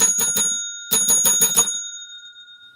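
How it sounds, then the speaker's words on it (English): A bicycle-style bell rung at a trivia night, two quick bursts of rapid ringing strikes separated by a short pause, bright and close, with the metallic tone ringing out afterward. "So we got the bell back."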